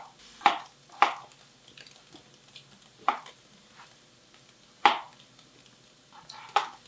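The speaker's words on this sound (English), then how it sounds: "So potatoes too, just about 1/2-inch size pieces" Potatoes being chopped into half-inch pieces on a board, five or six sharp knife thuds at uneven intervals over a faint sizzle of paneer frying nearby.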